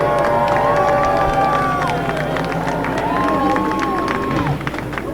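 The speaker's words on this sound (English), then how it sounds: "I know you give him a big Airborne round of applause." Crowd at Airborne Park Speedway dirt track in Plattsburgh, New York, cheering and applauding a first-time race winner; steady dense clapping and whoops over a loud background, with tonal siren-like sweeps running through.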